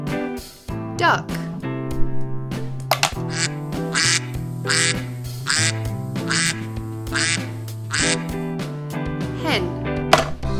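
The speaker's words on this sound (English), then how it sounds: "Duck." Duck quacking from an animal-sound demonstration, repeated quacks in a steady run over a continuous musical background, clear and fairly loud throughout.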